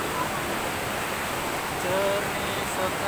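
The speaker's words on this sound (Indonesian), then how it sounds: "Lihatlah mata air mengalir." Spring water flows through a mountain forest at Gunung Puntang in Pangalengan, West Java, a steady broadband rush heard throughout, with a voice speaking faintly beneath it.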